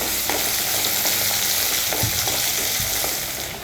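Onions and crushed garlic sauté in a hot pan: a loud, steady sizzle fills the whole stretch, with soft scraping stir strokes cutting through now and then, up close and with no voices.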